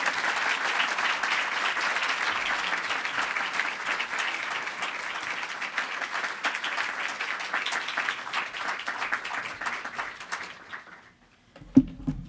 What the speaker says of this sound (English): Please give Secretary Albright a round of applause.